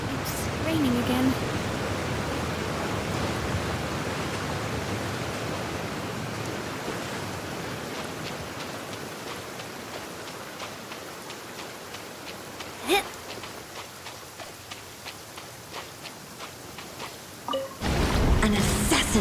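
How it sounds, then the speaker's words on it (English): Steady rain hisses continuously in the video game Genshin Impact, a broad wash of noise that fades slightly over time, with a voice speaking over it and a brief sharper burst near the end. "It's raining again."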